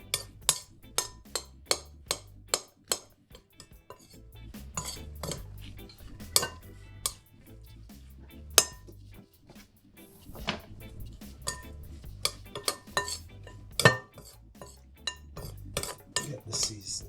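Salt and oil seasoning being mixed in a bowl with cutlery for a garden egg dish: irregular sharp clinks and taps, close and fairly quiet, in uneven bursts with brief pauses.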